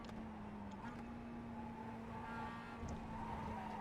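A Mazda MX-5 race car in the iRacing sim game holds a steady engine drone at near-constant revs, with faint tire scrubbing through a corner, fairly quiet and with no talk.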